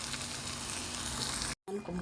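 Mung bean soup with dried fish on the boil in a pot, a steady bubbling, sizzling wash that runs continuously, breaks off for a moment, then resumes with some stirring clatter.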